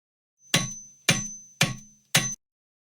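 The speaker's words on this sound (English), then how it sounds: "Yes, it's the sound of a hammer." A hammer strikes four times, heard from behind a door: evenly spaced, sharp metallic blows, each with a brief ringing tail, alone and fairly loud.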